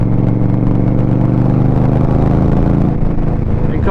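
An Indian Scout Rogue/Bobber motorcycle engine runs close and loud at a steady, even rumble during its break-in cycle, held at moderate revs with no sharp climbs and no voices over it.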